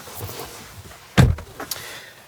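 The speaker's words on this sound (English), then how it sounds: "the door opens with a press on the larger part of this black release handle" A Tesla Model Y door is opened with a press on its black release handle, giving one sharp mechanical thunk followed by a few softer clicks and rustles, close by with no talking.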